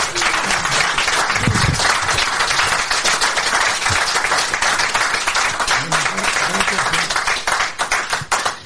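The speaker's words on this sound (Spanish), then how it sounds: "Yo creo que se merecen un aplauso estos dos señores." Applause for two men at the close of a Spanish podcast episode, a steady wash of clapping lasting throughout with some voices mixed in underneath.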